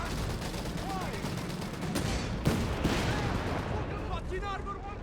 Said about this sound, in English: Ground squad in trouble, get grenades being chucked here. The good old Mark II frag grenade.